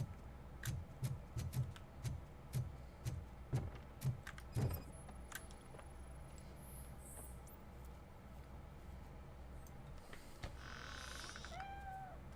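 A cat in a video game gives a couple of short, close meows near the end, following a run of rhythmic clinking and jangling taps against a quiet background.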